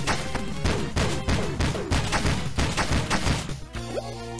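Scatter shot weapon in a roguelike video game firing a rapid run of loud blasts in a rough rhythm, about eight bursts in a row before a short tonal game sound at the end.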